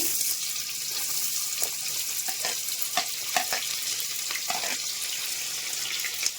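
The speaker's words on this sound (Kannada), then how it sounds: "ಈಗ ಎಣ್ಣೆ ಕಾದಿದೆ ಇದಕ್ಕೆ ಪಲಾವ್ ಎಲೆ ಶಾಯಿ ಜೀರಾ ಒಂದು ಸ್ವಲ್ಪ ಈಗ ಈರುಳ್ಳಿ ಹಾಕೋಣ" Chopped onions go into hot oil already seasoned with bay leaf and shahi jeera for a village-style country chicken biryani, giving a loud, steady close-up sizzle broken by the clatter of stirring.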